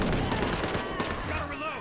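Gunfire rings out in the World War II stealth-tactics game War Mongrels, a rapid burst of shots and impacts fading into a faint tonal effect, with a voice speaking briefly underneath.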